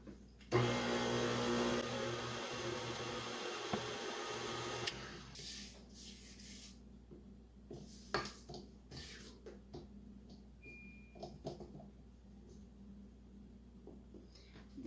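An electric mixer beats cake pop batter in a loud, steady whirring burst of about four seconds, then cuts off, leaving quieter bumps and scrapes of bowl and utensils.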